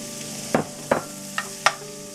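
One large chopped onion frying in a little olive oil, four distinct scraping stirs over a soft steady sizzle, close and fairly loud, with no talking.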